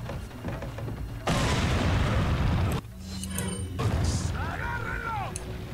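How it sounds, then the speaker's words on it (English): A hand grenade in Resident Evil 4 goes off with a loud, broad blast lasting about a second and a half, then cuts to quieter game sounds, with brief talk nearby. "let me use the hand grenade"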